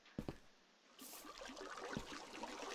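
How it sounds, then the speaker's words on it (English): Waterfall flowing in Minecraft, a steady soft rush of falling water starting after a second of near silence, with a few brief clicks early on; faint and even throughout. "Yes, it is Crypto's waterfall"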